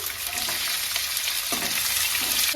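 Onion, green chilies and curry leaves fry in a pan for chitranna, hissing with a steady close sizzle while a spoon stirs and scrapes at intervals, no talking heard.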